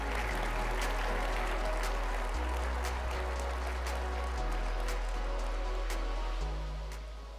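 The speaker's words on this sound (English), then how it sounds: "I'm sure this is your applause now." A room full of people at a construction industry conference claps steadily, a dense, sustained patter of applause at moderate volume that tapers off near the end.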